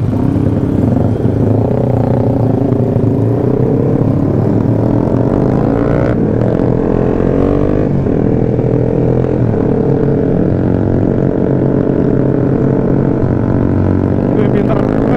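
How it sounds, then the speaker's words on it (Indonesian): A loud, throaty motorcycle engine with an aftermarket exhaust drones steadily throughout, with a deep rumbling exhaust tone and shifting pitch as it revs, heard up close on a quiet road at night. "Pakai knalpot ini tuh suaranya lebih padat, bro."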